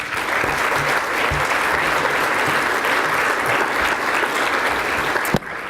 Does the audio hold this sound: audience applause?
yes